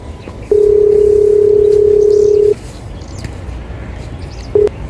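A phone call connects with a steady dial tone that holds for about two seconds, then a short second beep follows later over faint outdoor background noise.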